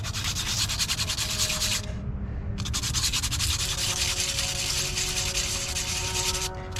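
A nut on a Bobcat 873 skid steer is scrubbed free of rust with steady, loud, close rasping strokes that run continuously, broken by one brief pause and a second short stop near the end.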